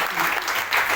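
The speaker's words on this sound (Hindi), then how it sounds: "एक बार जोरदार तालियां।" Applause from an audience at an educational motivational talk, loud dense clapping that fills the whole moment without pause, swelling slightly near the end.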